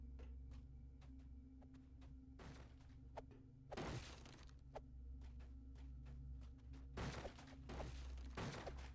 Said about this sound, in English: Keep smashing his crates.